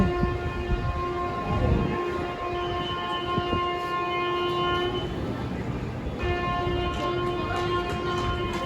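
Steady rumble of a train arriving at Purulia station with a sustained horn-like tone over the station noise, no speech, moderately loud throughout.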